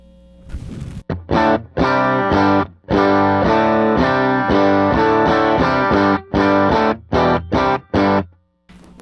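Electric guitar played through a Tonex pedal dialed to match a Fender amp, a run of loud, slightly driven chords strummed in bursts with short rhythmic stops, close and alone without talk.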